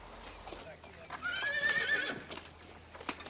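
Horses hitched to a chariot give a brief loud neigh over steady clip-clopping hooves, with a voice talking in the background.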